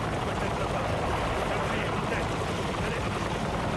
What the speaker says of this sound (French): Hélicoptère! Je vois.